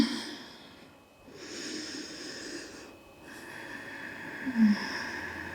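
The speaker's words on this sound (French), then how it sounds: "Et prenez 5 respirations." Deep, slow breaths are taken while holding a yoga stretch for splits flexibility, with audible inhales and exhales rising and falling in long, quiet cycles close to the microphone.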